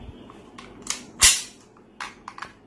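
A WE Luger P08 gas blowback airsoft pistol being fired, a few sharp snapping cracks at irregular intervals, the loudest near the middle, with quieter clicks and handling noise between them and a low background hiss.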